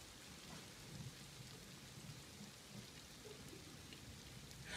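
Steady rain falls on a rainy day as a continuous faint hiss with low rumbling underneath, no voices over it.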